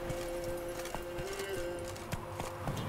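Rhythmic hoofbeats of a horse clip-clopping along steadily in The Witcher 3, with a faint sustained tone and background ambience underneath.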